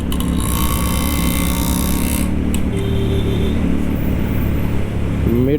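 Keeway Benda V302C two-cylinder belt-drive motorcycle engine revving loudly and steadily up close, a dense continuous drone with a rising throttle blip near the end, no voices.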